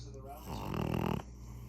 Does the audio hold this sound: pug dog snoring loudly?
yes